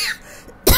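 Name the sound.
cough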